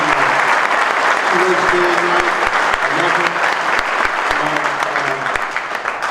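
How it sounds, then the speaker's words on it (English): An audience at a PGA spring meeting bursts into sustained applause, a dense wash of clapping with a few sharp claps standing out, while a speaker's voice carries over it. "Can we give her a round of applause?"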